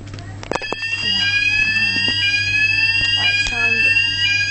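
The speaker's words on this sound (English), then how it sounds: "The fire alarm now starts." A fire alarm sounds a loud, continuous electronic tone with steady pitched harmonics after a few initial clicks, persisting unbroken while people speak nearby.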